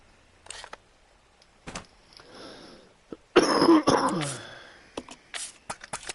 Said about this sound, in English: Pardon me with the coughing, sorry.